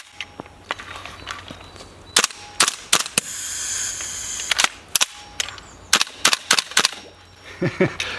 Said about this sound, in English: Gas blowback, of course, so when you pull it down here, the bolt goes back and forth, and let's give it a go.